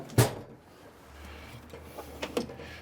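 Drawer of a workshop tool cabinet sliding open with a short sharp clack at the start, followed by faint rattling and a couple of light knocks as it moves, close and quiet.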